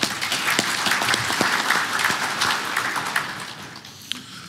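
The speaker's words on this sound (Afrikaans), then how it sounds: "Ek gee vir hulle 'n lekker hande klap." Applause from delegates at an agricultural congress, a mix of distinct individual claps and a dense crowd patter that tapers off toward the end.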